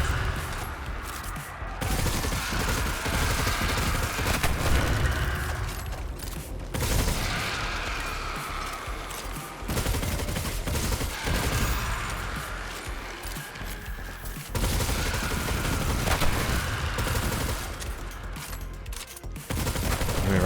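Continuous rapid gunfire from the Tarrabah weapon in a video game, dense overlapping bursts that run almost unbroken with brief gaps, loud and close throughout.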